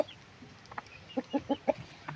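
Several short, throaty clucks from a rooster come in a quick run, close by, over a quiet background.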